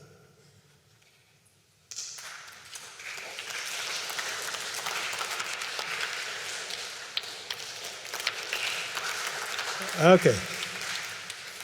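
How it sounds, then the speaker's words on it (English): Audience members at a technical conference clap in a synchronisation experiment, scattered claps building into sustained group applause after a quiet start, with a few louder sharp claps near the end and a brief spoken word. "Once someone started clapping, everyone started clapping"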